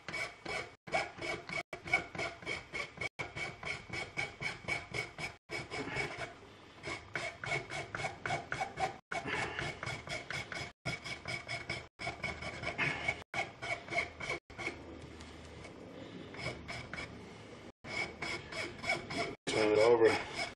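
A hand file rasping over a W. W. Greener gun barrel during restoration, rhythmic back-and-forth strokes in steady repeated bursts with brief pauses between, close and clear.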